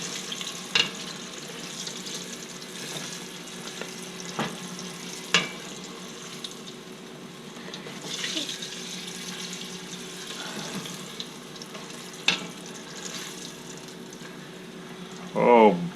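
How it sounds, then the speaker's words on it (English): Ham frying in a pan, a steady soft sizzle running underneath the whole stretch, broken by occasional sharp clinks and pops, with a person speaking at times. "Ladies and gentlemen, ham fries."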